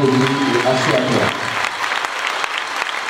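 A church congregation claps during a pastor's sermon, a dense, loud wash of applause that continues steadily. A voice speaks over the opening second before the clapping carries on alone.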